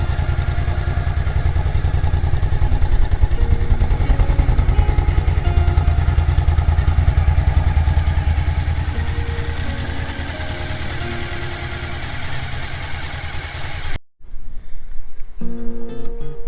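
A Suzuki V-Strom motorcycle engine idles steadily at close range with a deep, even rumble, then cuts off abruptly near the end.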